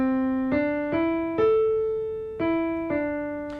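A short piano-like melody of six struck notes in an uneven new rhythm, each ringing and decaying before the next, closing on an unresolved phrase, heard clearly and alone.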